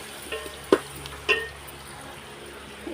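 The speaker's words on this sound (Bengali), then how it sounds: "চালটাকে দিয়ে দিচ্ছি ভেজে আসছি দেখো" Raw rice fries in a pan, a low steady sizzle close by with a couple of sharp spoon taps and scrapes against the metal, and no voices.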